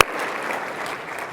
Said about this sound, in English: Please give a round of applause for Dr. Susan Perlman.